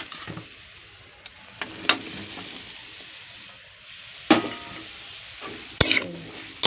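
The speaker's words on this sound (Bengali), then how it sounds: "এবারে আমি একে একে সব সবজিগুলো এবারে দিয়ে দিই" Vegetables tumble into a hot frying pan of tomato, ginger and cumin, bringing a steady sizzle with a few sharp clatters and scrapes as they land and get stirred, close and fairly quiet.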